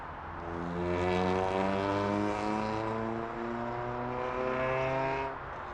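Heavy aircraft on the runway at Toronto's airport, a loud droning engine with strong steady harmonic tones that swell and ease slightly, heard alone at moderate distance.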